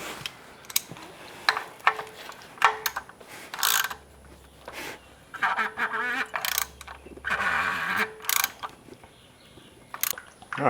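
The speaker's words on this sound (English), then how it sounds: "And then we're going to tighten this bolt until everything spins." A wrench ratchets in bursts of rapid clicking while tightening a bolt during a Toyota Highlander oil change, close and clear, with short pauses and occasional metallic clinks between runs.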